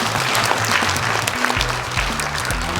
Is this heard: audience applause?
yes